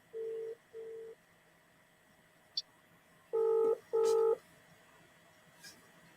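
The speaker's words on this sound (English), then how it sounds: "let me call her so she can join us on the phone" Phone keypad dial tones beeping as a call is placed: two single tones, a short gap, then two longer paired tones, loud and close with faint background hiss.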